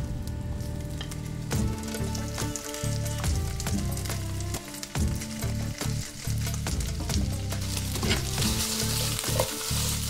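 Potatoes and meat sizzle loudly in a heated pan, a dense continuous crackling fry with frequent scraping stir sounds close up and no talking.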